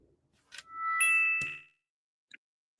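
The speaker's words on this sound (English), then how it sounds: "Is that your phone?" A phone notification chimes once with a bright, ringing tone that holds for about a second, followed by a couple of faint ticks.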